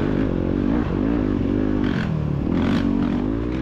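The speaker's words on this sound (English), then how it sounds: "That bike sounds different too." A dirt bike engine droning loud and close throughout a motocross race, a continuous buzzing roar with slight shifts in pitch as the throttle changes.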